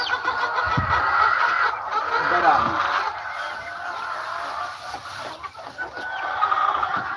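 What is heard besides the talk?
broiler chickens clucking loudly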